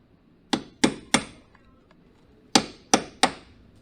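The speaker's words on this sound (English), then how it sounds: "We'll try and chisel this one off and see what we get" Hammer and chisel knock a part off a Can-Am Maverick. Six sharp, close metallic strikes come in two quick bursts of three, with quiet gaps between and no talking.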